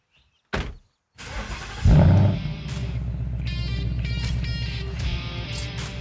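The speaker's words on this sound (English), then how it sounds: "I'm gonna put it in burnout mode for you" A car in burnout mode starts with a short burst, then the engine roars up hard at close range and holds a loud, rough rev while the tires spin.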